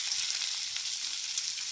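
Onions fry in hot oil for a stuffed bitter gourd dish, a dense, even, hissing sizzle heard close with no voices.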